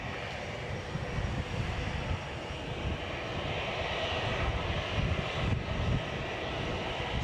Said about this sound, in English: We have an EasyJet from Naples just coming in now.